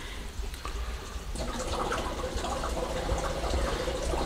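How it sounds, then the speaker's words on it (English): Water gurgling in a home discus aquarium while the pump is paused for feeding, a low, bubbling churn that holds steady and grows a little busier, alone and close. "you hear this gurgling noise coming from up here"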